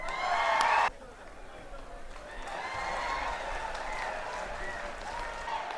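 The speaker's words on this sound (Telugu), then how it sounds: "ఇంకా గట్టిగా ఒకసారి చప్పట్లు." Audience applause at a university annual event evening, a dense burst of clapping in the first second that cuts off, followed by a softer, steady crowd murmur and scattered clapping.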